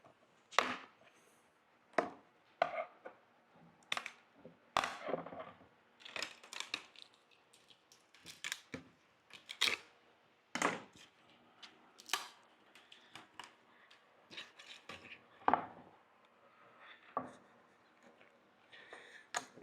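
Wooden shims being pried off a board with a screwdriver: a series of sharp, irregular cracks, snaps and scraping knocks, close and fairly quiet, with short pauses between bursts.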